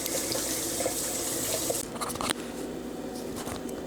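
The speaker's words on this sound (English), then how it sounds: "I'm gonna go outside and water my plants." Water runs outdoors while pineapple and aloe plants are watered, a steady close hiss and splash that shifts in tone midway with a few brief spatters.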